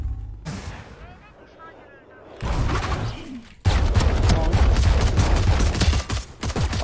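Rapid automatic gunfire from the tactical shooter Valorant, played on a Brazilian server with high ping, erupts loud and dense after a quieter stretch and keeps going in sustained bursts, with game noise underneath.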